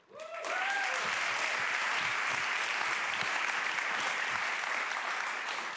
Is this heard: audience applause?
yes